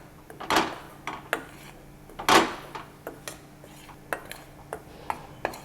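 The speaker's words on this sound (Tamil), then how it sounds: "இப்போ அந்த சத்து மாவு கொஞ்சமாக லைட்டாக அடுப்பில் வச்சு வறுத்துக்க போகிறோம்." A spoon scrapes and taps in a pan as sathu maavu flour is dry-roasted without ghee on the stove, with sparse irregular knocks and scrapes, close and fairly quiet.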